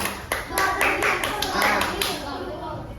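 A college class claps hands during a practice teaching lesson, a group of students producing a short run of sharp, fairly close claps over murmured voices, tapering off after a couple of seconds.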